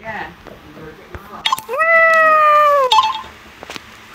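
A cat meows once, loud and close: a drawn-out, slightly rising and falling cry lasting over a second, with scattered faint clicks and thumps around it.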